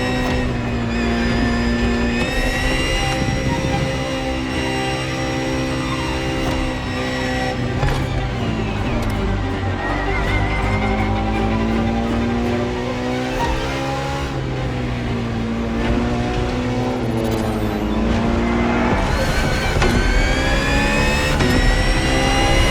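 A Ferrari FXX K revs and races in The Crew Motorfest, its high-pitched engine note climbing and dropping through repeated gear changes, loud, close and continuous for over twenty seconds with no speech.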